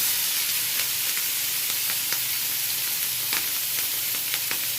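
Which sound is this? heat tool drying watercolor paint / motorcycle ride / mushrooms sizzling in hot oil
mushrooms sizzling in hot oil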